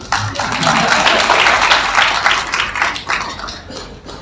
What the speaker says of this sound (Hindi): हाँ बजा लीजिए ताली।